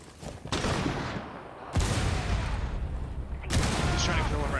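Rapid gunfire in the tactical shooter Rainbow Six Siege, with loud, dense bursts starting and cutting off abruptly over several seconds. A player's voice can be heard faintly among the shots.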